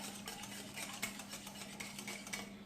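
A spoon stirring spices and fruit pulp into yogurt in a bowl for dahi baray, giving soft, steady scraping and clinking close by over a faint constant hum, with no talk.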